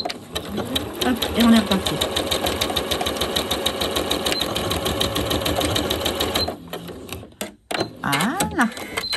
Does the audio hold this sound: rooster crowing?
no